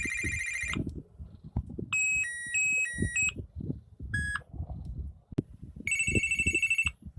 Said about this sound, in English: there are few ringtones.